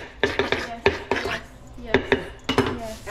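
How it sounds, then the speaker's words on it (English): Garlic being chopped on a cutting board in a home kitchen, a quick series of sharp knife taps in irregular bursts, close and clear, with a faint voice in the background. "she's chopping out some garlic pieces"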